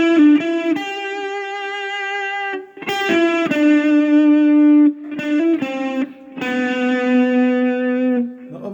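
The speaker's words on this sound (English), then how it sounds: "We're looking at the intro melody, the part that sounds like this." Distorted electric guitar playing the intro melody of a song, sustained singing notes in short phrases separated by brief pauses, played alone.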